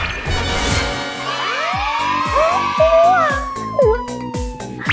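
Fire truck siren wailing with rising and falling tones, set against a rhythmic musical beat in a children's pretend-play scene; the siren is steady and fairly loud throughout.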